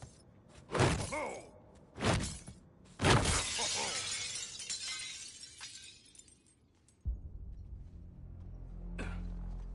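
Glass shatters in the Suicide Squad: Kill the Justice League video game: several loud, close crashing bursts of breaking glass in quick succession, followed by a heavy thud and lingering debris noise.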